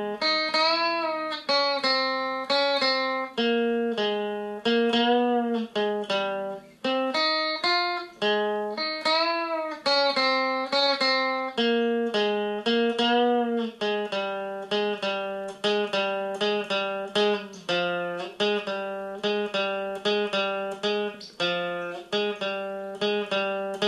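An electric guitar plays a solo, a sustained melodic line of ringing, distorted notes that bend and slide, loud and continuous with no voices.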